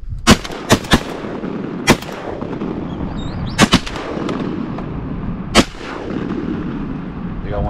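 Shotgun blasts fired at whistling ducks during a duck hunt in south Louisiana: six or seven loud, sharp reports in uneven bursts, some in quick pairs, ringing out over a steady outdoor background with no talking.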